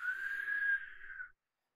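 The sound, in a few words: imitated whistling of air through cut throat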